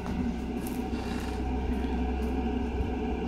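Door moving and scraping, a continuous close rubbing and rasping grind with a few faint higher squeaks, steady and unbroken, with no talking.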